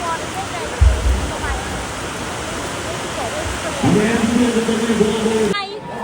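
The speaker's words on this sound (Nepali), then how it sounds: "पुरा पानी पर्यो" Heavy rain pours down on a football field during a match in a dense, constant roar, with voices briefly calling out over it near the end.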